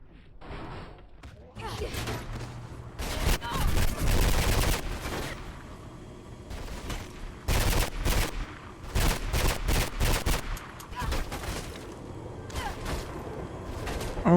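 Gunfire in Mirror's Edge comes in bursts of sharp, loud shots and rapid volleys spread across the stretch, with quieter gaps and mechanical clanks between them.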